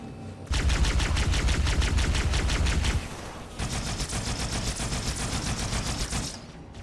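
Sustained rapid-fire turret machine gun in Halo 2, loud and continuous bursts for about two and a half seconds, then a short pause before another long stream of fire with a brighter, crackling edge, no talk.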